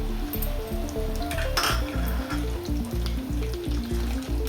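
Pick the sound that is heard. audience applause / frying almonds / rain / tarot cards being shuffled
frying almonds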